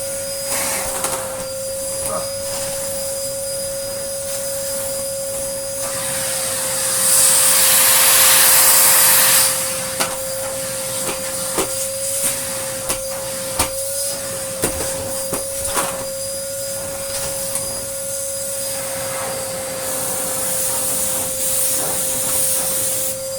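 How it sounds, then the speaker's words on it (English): A refurbished Karcher T9/1Bp backpack vacuum cleaner runs with a steady close whine and hum, its suction hiss swelling loudly for a few seconds in the middle, with no voices. "really, really good suction indeed. So much so that using it as a vacuum cleaner is quite difficult"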